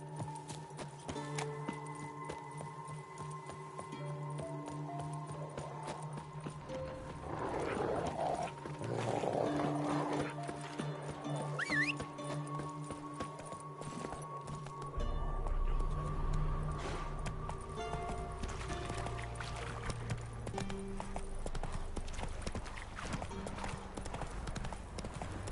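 Horse hooves clip-clop at a steady rhythm while riding in The Witcher 3, close and continuous under game music, with a brief rougher burst partway through.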